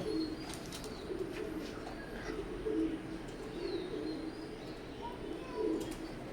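Imported Teddy pigeons coo in a steady low murmur, several birds overlapping in soft rolling phrases with faint chirps and background rustle, moderately close.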